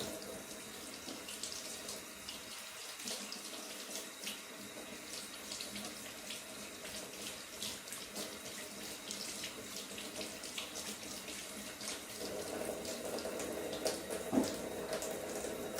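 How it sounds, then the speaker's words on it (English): A kitchen tap runs steadily into a sink while a fork is washed, a faint continuous water hiss with the flow swelling slightly near the end, no voices. "I think I'm gonna wash my fork first."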